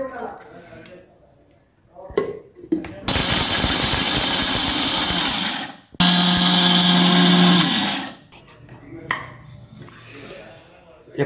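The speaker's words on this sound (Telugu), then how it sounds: "మిక్సీ పట్టుకుందాం." Roasted curry leaves ground into powder in a kitchen mixer grinder: two loud whirring bursts of several seconds each with a brief pause between, surrounded by quieter handling clatter and a little talking.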